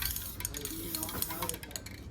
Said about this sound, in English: They're dry, so I'm gonna spray them.